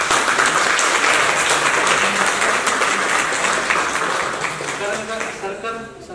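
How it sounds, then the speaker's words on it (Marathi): An audience applauds loudly for Deepak at a charity art fair gathering, dense clapping that holds steady before gradually thinning and fading toward the end. "म्हणून दीपकसाठी जोरदार टाळ्या"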